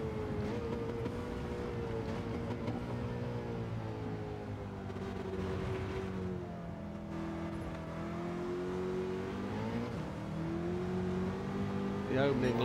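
Nissan Silvia S13 race car with a swapped engine in Gran Turismo 7, droning loud and steady through a long high-speed run at Le Mans, pitch rising and falling with gear changes, with a commentator talking over it.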